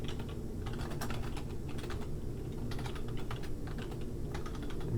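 Steady, rapid clatter of typing on a computer keyboard during a MATLAB exercise, keystrokes coming in quick bursts close to the microphone over a constant low hum, with no voices.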